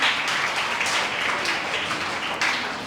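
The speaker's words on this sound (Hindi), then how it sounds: "भरपूर तालियों में" Audience applause for a child's recitation at a school event, a steady wash of many hands clapping with a few swells, filling the whole moment without any speech.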